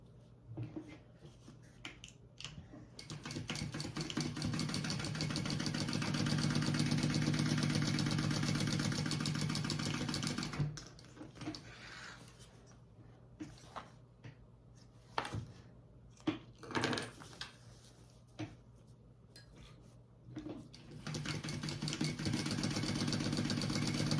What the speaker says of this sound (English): I am just going to sew down these two sides